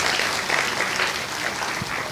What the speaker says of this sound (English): we'll save the claps for the end, it's okay.